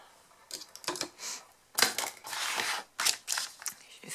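Paper card being creased and folded by hand for a handmade greeting card, a series of short crisp crackles and scrapes in irregular bursts, close and fairly quiet with no talking.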